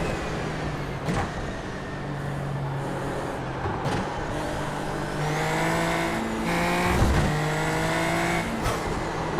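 Race cars in a racing video game (Spa circuit) roar steadily with rising and falling engine pitch through gear changes, a few sharp shifts punctuating the continuous loud drone, with no talking.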